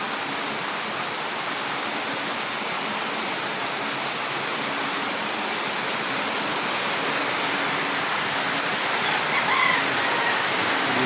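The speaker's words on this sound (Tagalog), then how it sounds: "Lakas ng ulan." Heavy rain pours down without letup in a flooded backyard, a dense, loud, steady wash of noise with no voices.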